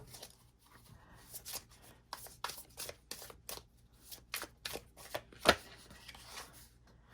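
Tarot cards are shuffled by hand at close range, a quiet run of soft riffling and slapping bursts with one sharper snap near the end, and no voices.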